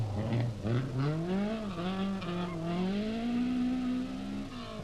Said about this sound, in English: Dan Daly from Belfast was 9th in the wide Datsun